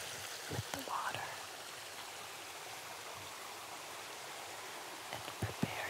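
Water flowing steadily through a Japanese garden, a soft continuous wash like a small stream, heard alone at low level with a few faint taps and rustles near the start and end.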